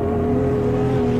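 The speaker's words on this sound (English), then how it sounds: "You can hear the roar of four-stroke Honda engines in their little carts" Four-stroke Honda kart engines in the racing game Automobilista 2 drone steadily and loudly at a sustained pitch through a short stretch, with no talk.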